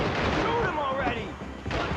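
Gunfire and heavy shooting from the action game Max Payne 3, loud, dense and continuous, with a voice over the din.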